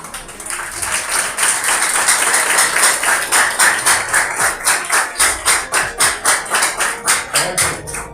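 Students rise and applaud their teacher in a classroom, a dense burst of clapping that settles into a steady rhythmic group clap, loud and close.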